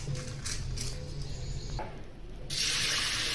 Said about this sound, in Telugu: తగినన్ని నీళ్ళు పోసుకుందామండి